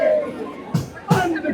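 Large crowd of students at a protest at Jantar Mantar, a close murmur of babble with two short bursts of nearby voices and handling noise.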